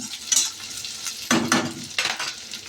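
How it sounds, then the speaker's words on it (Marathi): Capsicum sautéing in a pan with steady frying sizzle and scraping stirs, bursts of spatula or utensil contact against the pan around the middle and near the end, no talk. "शिमला मिरचीला पण 5 मिनिटं परतवायचं."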